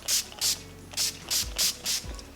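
NYX Matte Finishing Setting Spray pumped in six short, crisp hissing bursts at a fairly even rhythm, close and clear with no talking.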